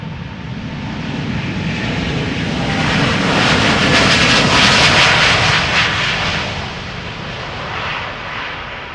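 A KLM airliner passes at Amsterdam Schiphol Airport, its loud engine roar swelling to a peak midway, then easing off as it moves away.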